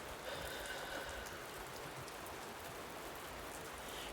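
Gentle rain falls in a soft, steady patter, faint and continuous throughout, with no voices over it.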